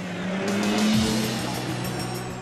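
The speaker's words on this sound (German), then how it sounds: "170 Rennwagen aus verschiedensten Fahrzeugklassen nehmen das Zeittraining auf." Race cars in a VLN qualifying session, with a field of 170 cars across many classes including GT3 machines, roar past close by at high revs, a loud surge of engine noise that sweeps through and drops in pitch.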